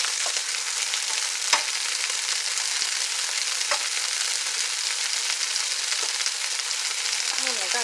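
Burger patties fry in a pan with a constant crackling sizzle, close and fairly loud, broken by a few sharper pops and scraping touches.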